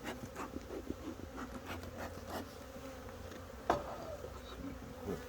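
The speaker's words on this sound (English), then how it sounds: "So we can quit buzzing around me so much." Honeybees buzz continuously around an opened beehive during a full hive inspection, a dense, close swarm drone with individual bees passing near.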